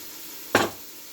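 Meat and chorizo hitting a pan of frying onion and garlic, a single brief burst of sizzle that flares up and quickly settles back to a low hiss, alone with no talk.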